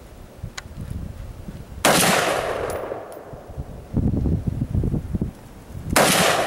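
Bursts of gunfire on a shoot house range, loud and close: quick rapid volleys of shots separated by brief pauses, with sharp reports echoing between strings of fire.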